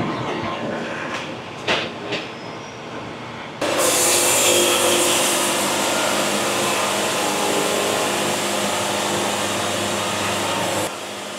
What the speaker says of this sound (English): Sawing like butter.